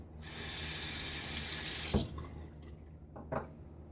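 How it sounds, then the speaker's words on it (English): A faucet runs steadily as a razor is rinsed under the stream, then the flow cuts off, leaving a couple of brief clinks and drips in a quiet room. "All right, let's rinse this."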